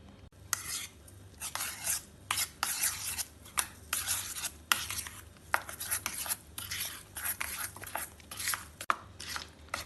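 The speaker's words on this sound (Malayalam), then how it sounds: "ആവശ്യത്തിന് ഉപ്പും കൂടെ ചേർത്ത് എല്ലാം കൂടി ഇളക്കി മിക്സ് ചെയ്യാം." Chili powder, soy sauce and salt stirred together in a bowl for Korean kimchi seasoning, heard as a close, steady run of scraping, rubbing strokes with faint clinks of spoon against the dish, and no talk.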